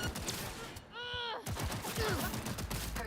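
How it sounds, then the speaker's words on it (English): Rapid gunfire from the video game Cyberpunk, with dense overlapping shots and bursts that crackle loudly throughout, mixed with a brief voice partway through. "Heard shots."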